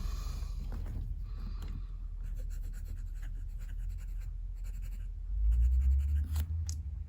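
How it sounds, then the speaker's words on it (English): Moonman T1 steel medium-nib fountain pen writing on Clairefontaine paper, a steady soft scratching of nib on paper throughout, close and quiet, with a low rumble swelling near the end. "let's do some writing. So here I have some Clairefontaine paper, and I have here the Moonman."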